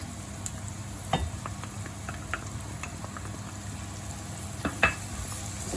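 Ginger garlic paste with salt frying in a pan for a spicy mushroom masala curry, steady soft sizzle with occasional clinks and scrapes of a spoon stirring, close and quiet with no talking.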